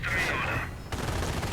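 Rapid crackle of infantry rifle fire from a strategy video game battle, a dense volley over a brief stretch.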